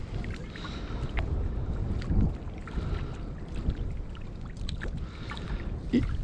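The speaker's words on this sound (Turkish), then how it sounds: "Rüzgar çıktı" Steady gusting wind buffets the microphone outdoors while trout fishing, a low rumbling roar with faint water sounds around it, and no one speaking.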